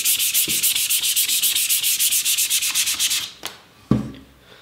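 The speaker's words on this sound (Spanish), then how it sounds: "Sin miedo y con brío, como vemos, va saturando la lija." Sandpaper rubs briskly across a leather strop during cleaning, in rapid regular back-and-forth strokes about four per second, close and loud, then stops and is followed by a few scattered scrapes and handling knocks.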